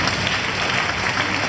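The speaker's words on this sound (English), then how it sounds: "So let's give them a big round of applause." Crowd applause rings out at the opening ceremony of a Taiwanese cultural festival in Toronto, a continuous broad patter of many hands, evenly loud throughout with no speech on top.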